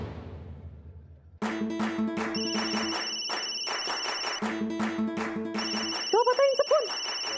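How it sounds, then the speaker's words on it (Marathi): An electronic telephone ringtone starts abruptly after a faint lead-in and plays a loud, repeating melodic pattern of tones in regular bursts, with a brief voice-like sound near the end. "शोभाताईंचा फोन."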